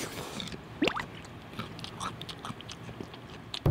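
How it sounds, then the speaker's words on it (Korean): Someone eating close by with wet chewing and lip-smacking sounds, plus a few sharper bites scattered through a quiet room, ending on a louder bump. "조용히 좀 먹어라, 조용히 좀."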